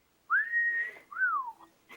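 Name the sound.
whistling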